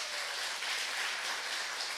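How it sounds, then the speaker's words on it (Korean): A church congregation at Sunday worship gives soft, steady applause, a dense hiss-like patter of clapping heard faintly and evenly throughout. "우리 박수 한번 해주세요"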